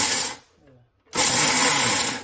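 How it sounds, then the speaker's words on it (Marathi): A kitchen mixer grinder runs briefly on peanuts, a loud whirring burst that stops, leaves a short quiet gap, then starts again and keeps running. "हे मिक्सरमध्ये फक्त थोडं फिरवायचं"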